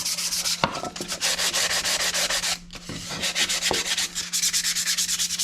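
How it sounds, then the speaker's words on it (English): A wooden box hand-sanded with 320 grit sandpaper, close rhythmic rasping strokes in quick repeated bursts with a brief pause midway. "So we're gonna give it a quick sand with some 320."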